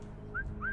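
Short rising whistle from a person in Assassin's Creed Syndicate, two brief tonal glides, the second longer, heard over a low game ambience hum.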